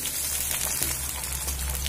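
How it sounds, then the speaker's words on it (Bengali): Chopped onions fry in hot oil with five-spice tempering and dried red chillies, a close, steady sizzle and crackle over a low background hum. "পেঁয়াজটা একটু ভাজা করে নেব"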